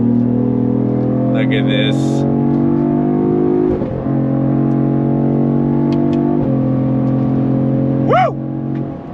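A 2025 Cadillac CT5-V sport sedan accelerates on throttle through a U-turn, its engine drone holding steady with shifts in pitch, heard from inside the cabin under a brief spoken remark.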